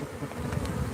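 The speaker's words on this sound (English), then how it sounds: "So you can see we are exercising these bees." Bees from a killer bee hive pour out in a dense, steady buzz, a close swarm drone holding for the full second with no voices over it.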